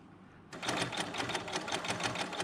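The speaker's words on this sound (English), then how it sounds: "So the binding attachment is sucking it in, folding it over, and effectively making a long strap." A Bernina L890 sewing machine with a binding attachment folding a woven fabric strip starts up abruptly and runs at a fast, steady rhythmic whir of rapid stitches, close and alone.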